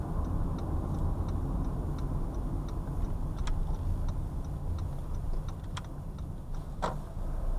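A car's turn signal ticks steadily and evenly at a moderate level, layered over constant road and engine rumble while the driver signals left on a road near a school.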